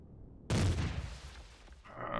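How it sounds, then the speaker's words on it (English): Ship artillery fires in Empyrion Galactic Survival with a sudden loud boom that rolls into a long rumbling decay, followed by a fresh harsh burst at the end. "My artillery's working anyway"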